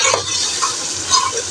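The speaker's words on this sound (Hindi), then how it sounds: "मसाले की भी अच्छे तरीके से भुनाई कर लेते हैं।" Green chillies, garlic, ginger and tomatoes fry in oily masala for chana biryani, a loud, close, continuous sizzle with light stirring swells and no talking.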